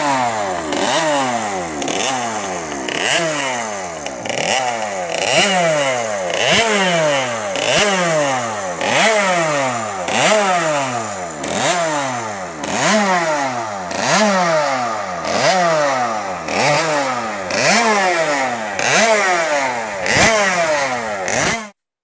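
A Derby 50 two-stroke motorcycle engine revs hard and repeatedly, its buzzing, raspy note climbing and dropping in steady cycles of roughly a second and a half, loud and close throughout with no talk.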